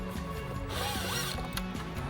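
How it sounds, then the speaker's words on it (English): A power drill briefly whirs and ratchets while backing out a screw on a 2019–2022 Chevrolet Silverado 1500 air filter housing, a short, close burst of mechanical clicking and spinning. "I'm just gonna go ahead and get the drill"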